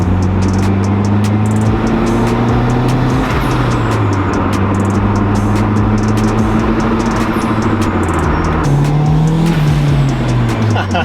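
A car engine roars hard and close, its pitch climbing and then dropping sharply at each downshift before climbing again. Tires squeal faintly through the loud, continuous revving.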